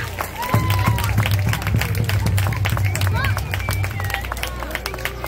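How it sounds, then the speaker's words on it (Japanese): An outdoor crowd at the Tokeshi Eisa Ashibi festival in Okinawa claps steadily in dense, continuous applause, with crowd chatter and voices mixed underneath. "皆さん大きな拍手お願いします。"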